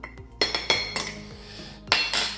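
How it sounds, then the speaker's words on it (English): A spoon stirs cocoa powder mix in a mug for a two-minute mug cake, making several bright, close clinks against the sides in a quick irregular rhythm, alone with no talk. "Give that a quick stir, nothing too vigorous."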